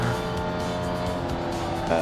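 Race cars in iRacing at Oulton Park, a loud, close engine roar with layered high revving tones and a brief rise near the end, sustained without talk.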